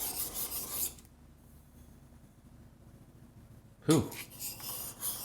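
The back of a block plane iron rubs on a sharpening stone in a few close rasping strokes, then falls quiet for several seconds before a short exhale and more scraping return.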